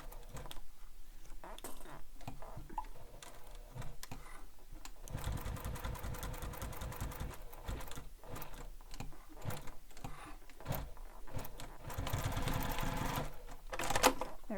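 A sewing machine runs in bursts while stitching a bag seam, its rapid needle chatter starting and stopping among scattered handling clicks and bumps, close by.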